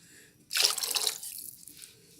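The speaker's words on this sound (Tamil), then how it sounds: "புளிக்கரைசல் சேர்த்துட்டு உங்களுக்கு இதுக்கு கொஞ்சம் தண்ணி விடுங்க." Water pours steadily into a pot of tomato rasam with tamarind extract, a bright splashing rush for about a second that tapers off into a quieter trickle.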